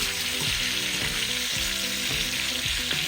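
Beef tail frying in a hot pan, a loud, steady sizzle and crackle close by with stirring and scraping as the pieces are turned over, no talking.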